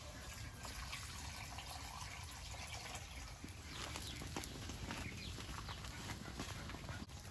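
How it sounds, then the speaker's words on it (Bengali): Water poured into a pan of spice paste fried with turmeric and chilli powder, a steady, loud rushing gush with sizzling and bubbling that runs without a break for about seven seconds, alone with no voices. "মশলাটা কষানো হয়েছে এবার জল দিয়ে দেবো"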